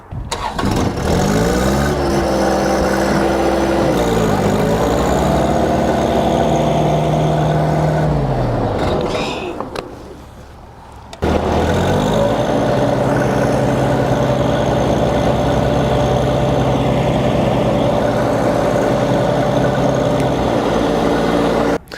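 A tractor engine cranks and catches, settles into a steady mid-pitched idle, then cuts out briefly, restarts and runs on at an even idle with no talking.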